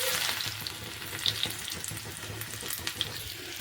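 Garlic frying in hot oil in a home kitchen, a steady close sizzle with scattered sharp crackles and pops running throughout, no voices.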